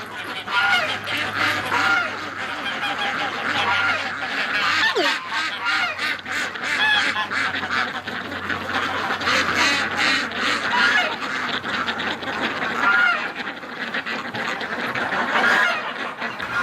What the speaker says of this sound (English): The geese are still freaked out.